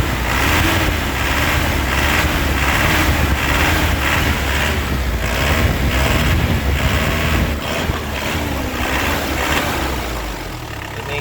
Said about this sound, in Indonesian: Kita gas-gas, mesin sudah panas,